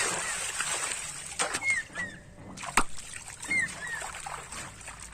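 Fish being released into a village pond make irregular splashes and sloshing water with a few sharper slaps. Voices are faintly audible in the background.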